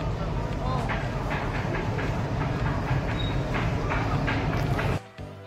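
Loud, steady rumble and rattle of the 12333 Vibhuti Express from Howrah to Varanasi running on rails, with a rhythmic clatter under some voices, cutting off abruptly near the end.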